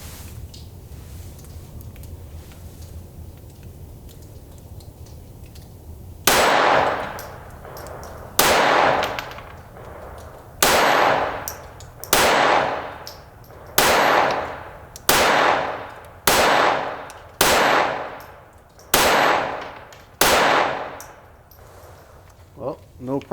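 A Glock 44 .22LR pistol fires about ten evenly spaced, sharp, loud shots at an 8-yard range, each cracking and ringing out briefly; no one speaks during the string.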